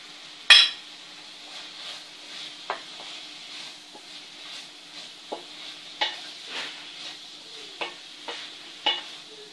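A pastry filling of cilantro, parsley and olives fries in a pan, with a soft steady sizzle and repeated sharp clinks and scrapes as a utensil stirs against the pan.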